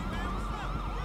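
Police sirens wail in the GTA 5 video game, several overlapping rising and falling tones sweeping over a dense rumble of traffic and engine noise, loud and continuous.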